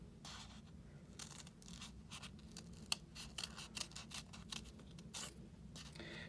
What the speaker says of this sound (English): I'm going to take my scissors, and I'm just going to cut right along here.